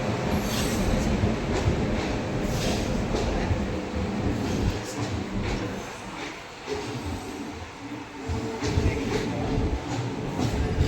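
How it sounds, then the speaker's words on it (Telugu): A passenger train bound for Chennai pulls into a station, its loud rumble and clattering wheels steady throughout, with metallic squeals rising over the noise. "చెన్నై ట్రైన్ వచ్చింది."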